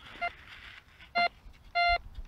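Metal detector beeping over a ferrous rock, three short electronic tones that grow longer, the last a sustained beep, close and clear over quiet outdoor background.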